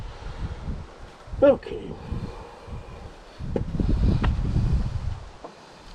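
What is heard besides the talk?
wind blowing during welding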